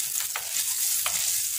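Butter melting in a pan for garlic buttered shrimp, a soft steady sizzle with a few brief scrapes of stirring, close and even.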